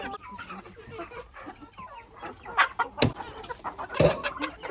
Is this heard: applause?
no